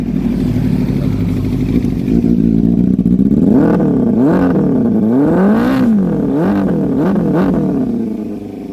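Suzuki Bandit 250 motorcycle engine running after repair, idling loud and close with a rough mechanical note, then revved repeatedly in rising and falling surges before easing back, with no talk.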